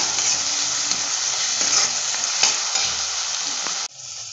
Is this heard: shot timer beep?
no